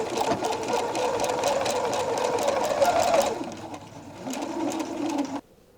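A home sewing machine stitches pockets onto the back of a dress panel, running in a fast continuous whir, slowing and changing pitch near the end before stopping.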